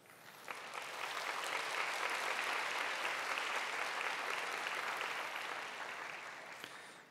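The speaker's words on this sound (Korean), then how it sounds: "박수로 축복해 주시기 바랍니다" Sustained applause from a church congregation during a young adults' worship service, a steady crowd clapping that swells in quickly, holds evenly for several seconds, then fades.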